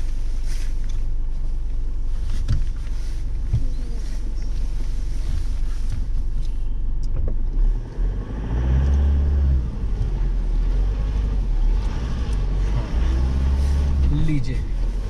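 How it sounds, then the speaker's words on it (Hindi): A car's engine hums steadily while it backs up on a steep mountain road near Pangot, with wind buffeting the microphone and someone talking over the low drone throughout. "मुझे वापस गाड़ी जो है थोड़ी सी बैक करनी पड़ेगी"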